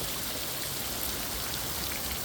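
Water streaming and dripping off moss in a mountain gorge, a continuous bright splattering patter like a light shower, close and steady throughout.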